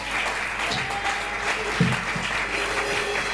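Church congregation applauding together, steady clapping from a crowd that carries on throughout with a brief louder burst midway.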